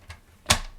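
A paper trimmer slices through card stock in a short, sharp snap, preceded by a faint tap, close and alone.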